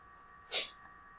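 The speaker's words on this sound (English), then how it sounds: "Yeah, Doggo sneezed." A single quick, sharp sneeze from a dog, brief and fairly close, over a low steady hum.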